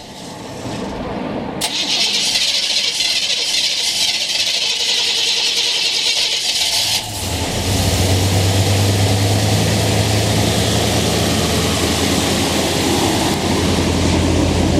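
A 1980 GMC van's carbureted 350 V8 cranks and then fires from a cold start, settling into a loud, steady, close running roar with a deep low rumble and no talk over it.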